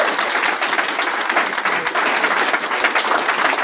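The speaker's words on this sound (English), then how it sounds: "You might want to really calm down that clapping" An audience claps at the closing of a BSides Leeds security conference, giving dense, continuous applause that stays loud and steady throughout.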